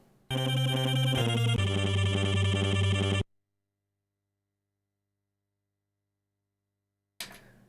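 A Waldorf Blofeld wavetable arpeggio patch through a resonant low-pass filter, bright buzzy notes cycling in a fast, loud pattern for about three seconds, then silence until a brief return at the end.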